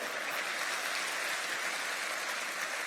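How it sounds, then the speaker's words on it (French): Steady, dense applause from a church congregation, a continuous wash of clapping at even loudness throughout with no gaps. "Amen, on applaudit Jésus pour la liberté."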